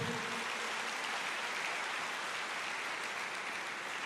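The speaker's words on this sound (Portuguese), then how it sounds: "Aplauda ao Senhor." A church congregation claps together in sustained, dense applause that fills the room loudly from start to finish, with no voices standing out.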